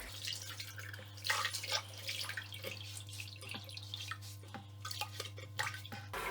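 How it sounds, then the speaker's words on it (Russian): Water running and trickling steadily into a toilet cistern, with faint drips and a low constant hum underneath, no voices. "Открывайте кран подачи воды в бачок и набирайте воду."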